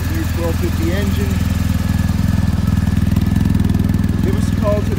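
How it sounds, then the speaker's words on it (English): A 2019 BMW R1250GS motorcycle's 1250 engine idles steadily up close, a constant low throbbing rumble that holds through the whole stretch, with faint chirps in the background. "The new 1250 engine."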